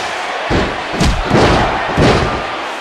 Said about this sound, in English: And so is this capacity crowd.